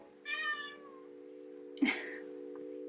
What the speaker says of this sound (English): Here comes a little kitty to join us.